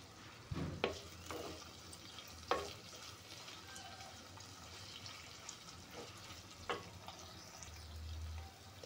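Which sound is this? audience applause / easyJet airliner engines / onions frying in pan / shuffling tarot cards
onions frying in pan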